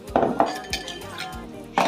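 Salt water is stirred in a bowl, with a few sharp clinks and scrapes of a utensil against the bowl at an uneven rhythm, close by and moderately loud, no talking.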